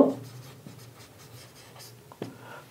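Pen on paper writes an entry in an accounting ledger, with soft, faint scratching strokes and a few light taps, close by and without speech.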